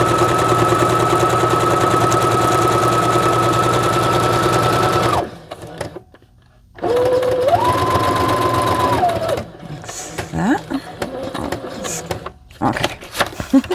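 A sewing machine stitches down the edge of a fabric pocket card insert, whirring loudly in a steady run, pausing briefly, then starting again with changing pitch before trailing into quieter clicks and handling noises.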